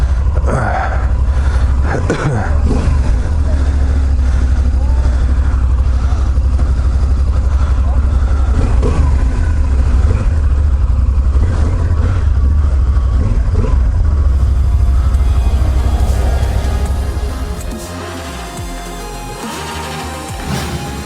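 A 2016 Yamaha Super Tenere motorcycle on a test ride, with a steady loud engine drone and wind rumble that eases off near the end, while a rider talks over it.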